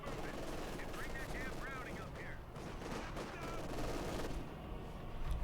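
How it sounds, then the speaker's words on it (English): Machine gun fire in the World War II strategy game Company of Heroes 2, dense rapid bursts mixed with other battle noise, continuous and fairly loud under a commentator's voice. "Machine gun push back."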